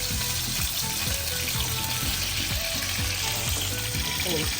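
Chicken pieces roast in a green masala with ajwain and curd in a pan, giving a constant loud sizzle broken by repeated scraping strokes of a spoon stirring and turning the pieces.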